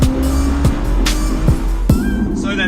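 A BMW Z4 driving along, a steady engine drone and road rumble with a few sharp thumps as it rolls over bumps, close and fairly loud throughout.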